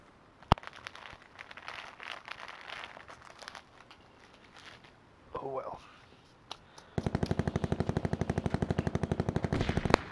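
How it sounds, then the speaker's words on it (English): Gunfire in a Call of Duty: Black Ops 4 Hot Pursuit match: scattered single shots and crinkling sounds, then a loud, sustained automatic burst of rapid, evenly spaced shots that runs to the end. "I'm hearing people firing guns."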